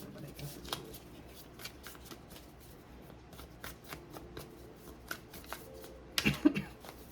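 A deck of tarot cards is shuffled quietly during a reading, with soft riffling and flicking in a steady texture, and a louder burst of card handling near the end.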